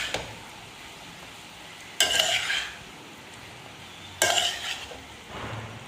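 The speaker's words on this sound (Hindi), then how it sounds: "मिक्स करेंगे इसको भी अच्छे तरीके से।" Chana chaat mixture stirred with tamarind pulp in a pan over the heat, giving two bursts of wet scraping and sizzling at close range over a steady low frying hiss, with no talking.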